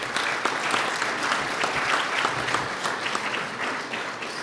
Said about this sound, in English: I want another round of applause for the team at BTV 10